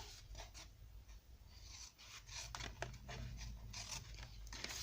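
A blade cutting a piece off a scoring board makes quiet, steady scraping and rasping close by, with a low hum underneath.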